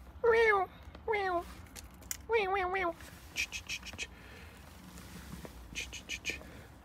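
A cat meows in several distinct wavering cries, some drawn out and rising, fairly close and clear over a quiet background, followed by soft whispery hissing bursts.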